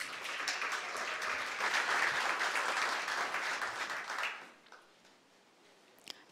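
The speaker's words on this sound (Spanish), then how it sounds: "Fuerte el aplauso." Audience applause at a regional oratory competition final fills the room as steady, dense clapping from a crowd, then fades out abruptly, leaving quiet room tone with a single faint click.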